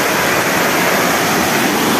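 A waterfall in the forest near Camburi, São Sebastião, roars as a constant dense rush of falling water, loud and close with no break.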